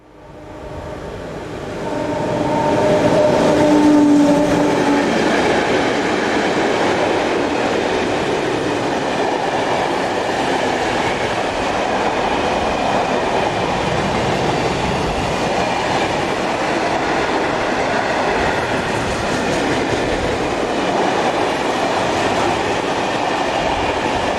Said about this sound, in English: 26226 heads this southbound intermodal service